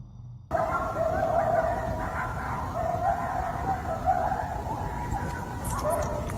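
A dog out on a night walk in the Appalachian woods gives repeated yelping, whimpering barks close by over several seconds, against a steady background hiss.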